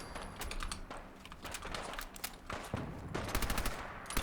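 Submachine gun fire in the Fallout video game: rapid automatic bursts of sharp cracks, close and loud, repeating in quick clusters with short gaps between volleys.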